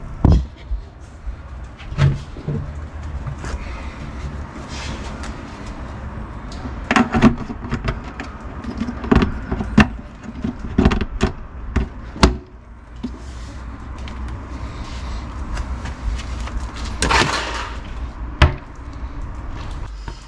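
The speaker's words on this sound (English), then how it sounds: "Right, set the door back on." Wooden cupboard door being set back onto a budget BBQ shack prep table: scattered knocks, clunks and scraping thuds of wood and hinges, close by, at an irregular pace with short quiet gaps.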